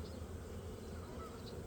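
A dense, steady drone of many honeybees buzzing close together in a hive, continuous and moderately loud with no talking.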